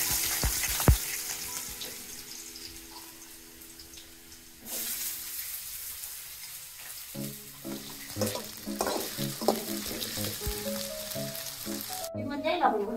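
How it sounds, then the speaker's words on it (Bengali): Potatoes frying in hot mustard oil, a steady close sizzle with stirring clatter and scraping spoon knocks, a sharp spatter burst as ingredients go in, with faint background voices. "আমি আলু ভাজার জন্য সামান্য তেল দিয়ে দিচ্ছি"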